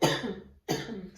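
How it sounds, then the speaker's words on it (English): Two close coughs from one person, a sharp loud first bark fading off, then a short gap and a second slightly softer cough. "I don't have a cough. That was random."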